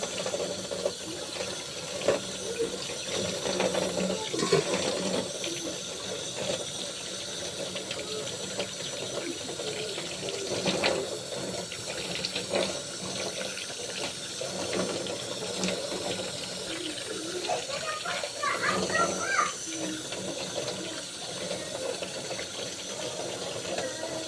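Tap water runs steadily into a sink while tawa-tawa herb is rinsed under it, a continuous close splashing hiss with small shifts as hands move the leaves, lasting throughout.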